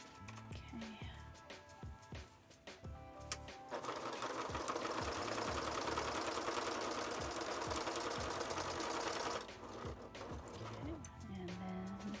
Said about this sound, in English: I'm just gonna sew the stem on this, or the vein center of this leaf.